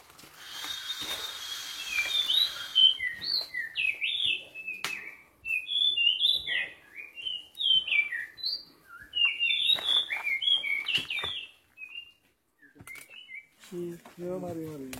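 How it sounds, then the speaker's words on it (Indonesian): Forest birds on Mount Pangrango along the Cibodas trail sing in bright, repeated chirps and whistled phrases, clear and fairly close, with short pauses between bursts. "mendengar kicau burung hutan langsung seperti ini"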